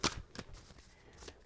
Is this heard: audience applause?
no